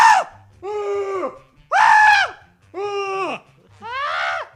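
A human voice imitates people screaming at each other, giving five loud, strained yells with short pauses between them, close and alone.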